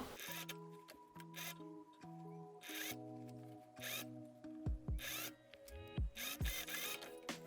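Sewing machine stitching a pre-ironed fold on a sleeve cuff in a quiet room: short bursts of whirring stitching with steady mechanical hum and tonal whine, stopping and restarting several times, with small clicks and handling noises between runs.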